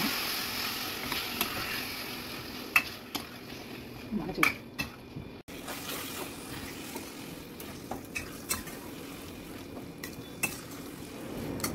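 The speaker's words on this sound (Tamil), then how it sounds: "இந்த எடுத்து வச்சுருந்த கடாரங்காயும் போட்டு நன்னா 10 நிமிஷம் கலரணும்." Wild lemon pieces for pickle are stirred in a pan, a low frying sizzle broken by sharp clinks and scrapes of a spoon against the metal at irregular intervals, close and quiet.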